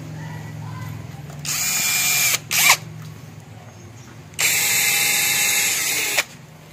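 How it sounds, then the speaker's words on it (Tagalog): Power drill driving self-drilling screws into a thick window panel frame, two loud sustained bursts of motor whine with a short grinding burst between them and quiet gaps before and after. "So ginawa nating drill bit like I said yung ating self drilling screw."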